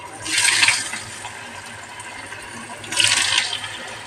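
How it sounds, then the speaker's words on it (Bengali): Snacks dropped one by one into hot oil on a low flame, each giving a short, bright burst of sizzling that fades back to a quiet background; two bursts a few seconds apart. "এবার তেল গরম হয়েছে, আমি একটা একটা করে ভেজে নেব"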